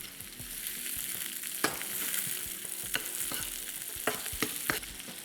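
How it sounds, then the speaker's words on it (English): Red peppers sizzle in a hot pan with garlic and noodles for chilli paneer, a steady close frying hiss broken by occasional sharp clicks of stirring. "And I'll add a few red peppers now."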